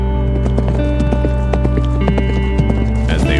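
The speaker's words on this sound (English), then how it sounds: "As they ride the snowy wind with flying speed while galloping into the distance" Horses gallop through snow in Xinjiang, their rapid hoofbeats thudding in quick rhythm, fairly close, beneath a loud sustained music bed that stays prominent throughout.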